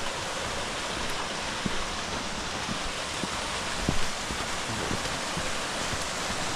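Crystal-clear mountain river rushing at a trail crossing on a trek from Chhomrong to Dovan, a loud, steady broadband roar of churning water with no pauses.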